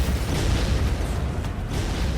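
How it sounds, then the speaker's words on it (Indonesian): A loud, sustained booming explosion from a thunder-sword slash in an animated fantasy battle, a dense rumbling blast filling the whole moment with no talk. "Dengan 1 tebasan saja membuat ledakan spiritual terjadi ya."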